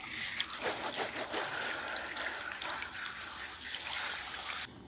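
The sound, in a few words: running water washing a bleach-covered hair dye brush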